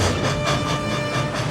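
A steam train rumbles along steadily with a rhythmic clickety-clack and a broad mechanical roar, close and continuous.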